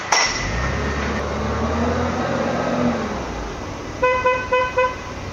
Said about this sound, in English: You want to always sound your horn at intersections and around pedestrian walkways.